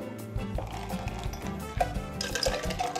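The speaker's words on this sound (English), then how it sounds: "I don't like to stir club soda into a drink, so I literally will pour it into my glass." Club soda is poured into a 14-ounce glass for a mojito, giving a close, continuous liquid fill with fizzing and splashes and no talk.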